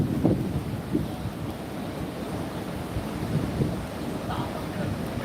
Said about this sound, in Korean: 서귀포 앞바다 날씨는 태풍이 오기 직전 모습으로